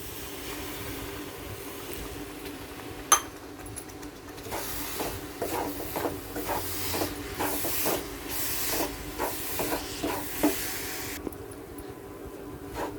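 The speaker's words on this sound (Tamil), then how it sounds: "இப்போ வெதுன்னு இருக்க பால் கொஞ்சமாக ஊற்றிக்கிறோம்." Warm milk is poured into a hot rava laddu mixture of semolina, then stirred, giving a steady steamy hiss with a run of rhythmic scraping and sizzling bursts before the sound quiets.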